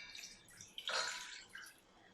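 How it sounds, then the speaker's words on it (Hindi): Water is poured into a saucepan to set up a double boiler for chocolate ganache. A faint, short splash and trickle swells in the middle and then fades in a quiet kitchen. "डबल बॉयलर बनाने के लिए आपको इस तरह का सॉस पैन चाहिए। उसमें हम डाल देंगे पानी।"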